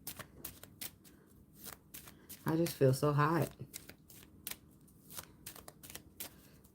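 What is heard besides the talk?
shuffling tarot cards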